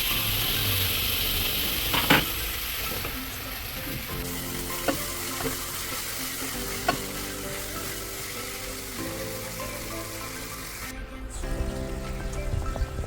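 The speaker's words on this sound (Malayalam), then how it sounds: "മസാല ഒന്ന് മൂത്ത് കഴിയുമ്പോൾ നമുക്ക് ഇതിനകത്തേക്ക് ആവശ്യമായ തക്കാളി ഇട്ട് കൊടുക്കാം." Tomatoes sizzle as they fry in masala for a chicken roast, a steady close hiss with a few clinks of the spoon, then the sizzle rises again briefly at the end.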